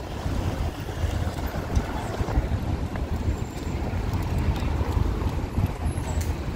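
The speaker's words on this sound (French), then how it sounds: "Il y a du vent" Outdoor wind buffets the microphone on a Paris square, a steady gusty rumble with irregular low thumps, and faint distant city sounds underneath.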